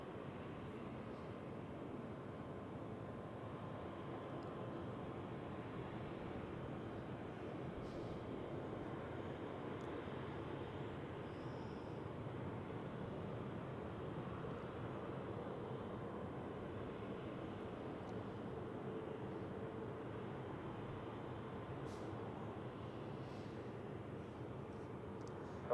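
An Airbus A321neo airliner lands at Zurich Airport, its engine roar a faint, steady, distant wash that holds level for the whole stretch with no talk over it.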